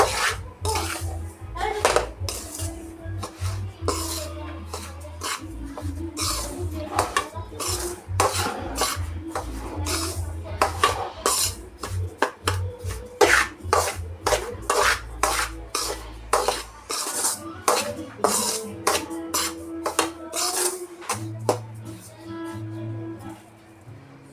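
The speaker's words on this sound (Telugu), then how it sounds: "ఇప్పుడు దీన్ని లో ఫ్లేమ్లో దోరగా వేయించుకోవాలండి." A metal spoon scrapes and clatters steadily against a pan as semolina is roasted and stirred over a low flame for ravva laddu, with dense, rhythmic scraping continuing close by for the whole stretch.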